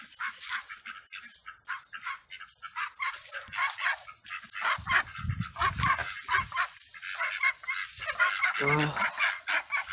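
Ducks being let out of their enclosure, a busy chorus of loud quacking and honking calls, close and continuous with a brief spoken word among them.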